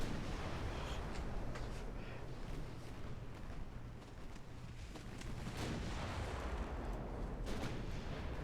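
Naval gunfire in the warship game Ultimate Admiral Dreadnoughts: a continuous dense roar of distant cannon fire and explosions, with no clear separate shots.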